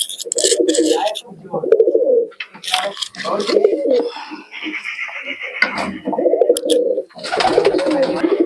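Giribaz pigeons at a keeper's loft coo in repeated throaty bursts close by, interleaved with people talking nearby throughout.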